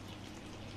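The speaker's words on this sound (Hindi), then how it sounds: "इसमें हम पानी डालकर" Water pours into besan batter for Gujarati dhokla, a soft, steady splashing hiss lasting under a second.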